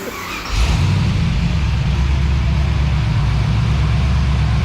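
A 1969 Camaro with an LS engine fires up and settles into a loud, steady, deep rumble that holds without pause, close to the listener.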